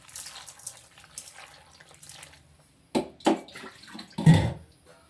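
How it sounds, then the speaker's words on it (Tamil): Water is poured into a cooking pot of spiced tamarind kootu in a home kitchen, heard as a few short splashing bursts with quiet clinks and stirring between them. "இப்போ தண்ணி ஊற்றிக்கிறோம்."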